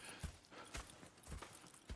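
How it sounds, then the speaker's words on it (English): Horse hooves clip-clop in the Red Dead Redemption video game, a quiet run of irregular hoofbeats on the ground with several thuds across a couple of seconds, faint and unaccompanied by talk. "Go check the horses are ready."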